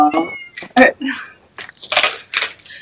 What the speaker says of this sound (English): He's just coming to meow at me.